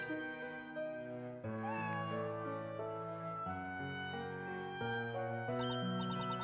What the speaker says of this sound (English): It's such a cute cat.